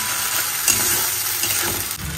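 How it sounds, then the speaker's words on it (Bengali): A spice paste with green chilli, Kashmiri chilli powder, salt, turmeric and potatoes frying in a pan, a steady close sizzle with soft stirring scrapes throughout. "মশলাটা কষাবো ভালো করে কাশ্মীরি লঙ্কা গুঁড়ো দিয়ে, তারপরে আলুগুলো দিয়ে কষাবো।"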